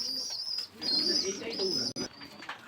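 Blue Pakistani highflyer pigeons, imported stock, cooing in close, repeated throaty calls over about three seconds, with a high whistling tone running above them.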